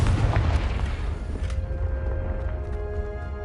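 A Confringo spell detonates in the Hogwarts Legacy video game with a heavy, close boom that rolls into a fading rumble over a few seconds.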